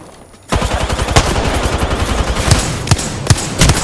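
Rapid automatic gunfire in the Apex Legends battle royale shooter, dense bursts and sharp shots rattling loudly throughout after a brief quiet start, several heavier individual cracks standing out near the end.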